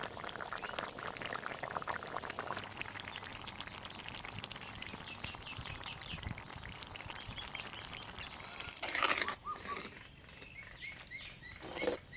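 Tamarind water pours steadily into a pan of dried-fish curry with a soft continuous splashing and light patter, close by and fairly quiet.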